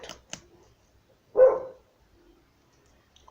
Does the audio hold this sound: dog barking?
yes